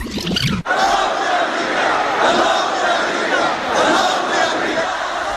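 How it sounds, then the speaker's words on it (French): A large crowd of Hezbollah supporters at a rally in Beirut's southern suburbs chants in loud, sustained unison, with a short burst of voice right at the start. "Mort aux États-Unis, lancent ces partisans du Hezbollah."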